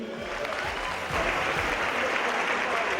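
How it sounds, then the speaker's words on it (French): A church congregation claps during a service, a steady wash of applause that swells slightly partway through, with some low voices mixed in. "applaudissez pour Jésus"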